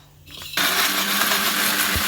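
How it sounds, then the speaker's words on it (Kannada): A kitchen mixer grinder kicks on after a quiet moment and runs steadily with a loud, continuous whirring roar. "ಇವಾಗ ಮಿಕ್ಸಿಗೆ ಹಾಕೋಣ"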